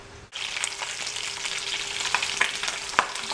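Bacon sizzles and crackles steadily in a frying pan, close and continuous, with occasional sharper pops and spits.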